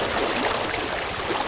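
Steady rushing flow of a deep river stream, a continuous broadband wash of water close by with no gaps, constant in level throughout.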